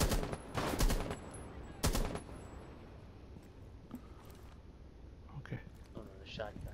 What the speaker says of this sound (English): Oh no, the shotgun shooting at me closer.